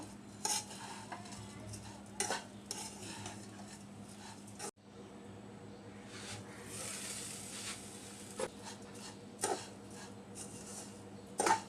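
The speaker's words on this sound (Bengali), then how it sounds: "আমি পাঁচ মিনিট পর আবার নেড়ে দিচ্ছি" Lachha semai vermicelli is turned in a pan in several bursts, each with a dry rustling scrape and the clink of a spatula against metal, with quiet stretches between.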